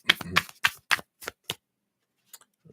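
A deck of reading cards is shuffled in a quick run of about six crisp papery riffles and slaps, followed by a pause and a few softer taps near the end.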